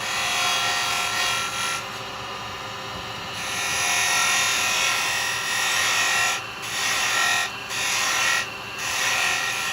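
A carbide chisel cuts wood spinning on a lathe while turning a Christmas nutcracker, a steady loud scraping rasp that runs without pause, with the tone shifting slightly as the tool moves; no voices.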